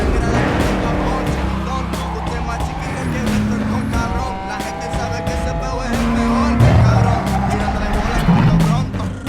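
A futuristic car in Cyberpunk 2077 drives with a steady, loud engine drone, tonal whines and occasional squealing tire slides, layered with synthetic blips and a voice speaking over it throughout.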